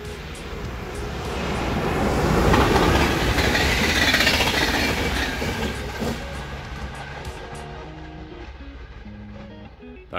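A train rushes past at speed on a railway line near Győrszentiván, Hungary, a loud rumbling roar with rattling wheels that builds, peaks and fades over several seconds, with faint voices beneath.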